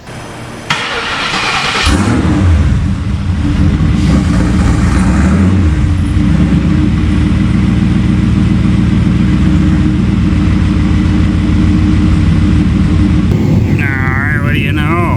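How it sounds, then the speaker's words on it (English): A race car's engine cranks and catches within the first two seconds, then runs at a loud, steady idle close by for the rest of the clip, with a brief rising whine near the end. "I'll go ahead and fire this thing up and see if it actually blows heat inside the car."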